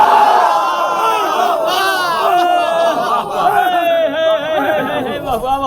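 A large gathering at a Shia religious majlis shouts the slogan Nara-e-Haidari in unison, a loud, dense wall of many voices chanting and crying out together, sustained for several seconds close up.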